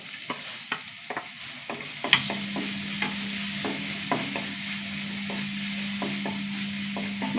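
Crushed small shallots and a quarter teaspoon of fenugreek seeds frying in hot oil, a continuous close sizzle punctuated by regular sharp spoon-against-pan taps as they are stirred, with a steady hum entering partway through.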